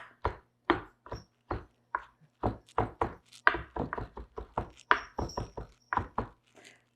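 A knife chops dried porcini mushrooms on a board in a kitchen, making a series of crisp, close knocks in an irregular rhythm, about twenty strikes with short pauses.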